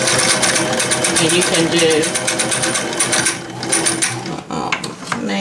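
1975 Singer Fashion Mate 360 sewing machine stitching, a fast mechanical rattle of needle strokes with whirring gears, loud and close, slowing and stopping near the end while a person talks over it.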